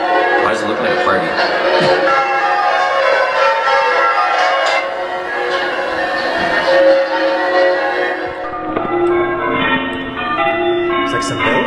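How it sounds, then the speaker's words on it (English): Bells in a church bell tower ring out for prayer, repeated clangs ringing on and fading, heard from a distance while people talk over them. "Like a bell tower thing to let everyone know it's time to pray"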